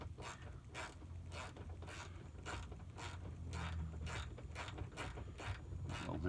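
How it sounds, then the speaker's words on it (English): A screw being driven to install a rear fender liner on a 2021–2024 Ford F-150 makes a rapid, evenly spaced series of mechanical clicks over a low steady hum, moderately quiet and with no talking. "get that screw started"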